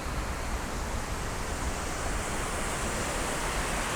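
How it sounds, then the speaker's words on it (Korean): A waterfall pours steadily beside a mountain hiking trail, a dense continuous roar of loud, even rushing water with no breaks and no talking. "폭포"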